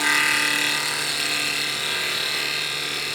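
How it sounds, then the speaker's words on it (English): A half-inch skew chisel cuts wood on a spinning lathe, giving a steady, fairly loud whirring scrape with a high hiss that runs unbroken for the whole stretch, slowly easing off in volume, with no talk. "Let's try that cut one more time all the way through with the 1/2 inch"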